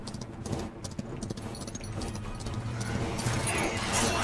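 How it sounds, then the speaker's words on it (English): Video game horse hooves clip-clop in a quick rhythm as the horse is ridden, steady and fairly close, with game sounds layered around them. "Oh, they scared my horse."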